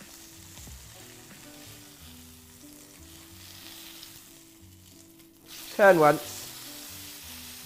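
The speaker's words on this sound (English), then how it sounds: "you get a nice sear again on the other side of the steak" Beef steak searing in a hot pan over high heat, a steady sizzle running beneath background music with a brief spoken phrase near the middle.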